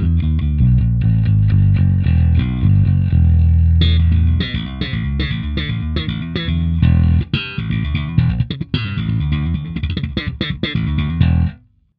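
Electric bass played through the Geddy Lee YYZ signature distortion pedal, giving a loud, gritty, overdriven tone with sustained notes and chugging repeated riffs that run unbroken for about eleven seconds before cutting off.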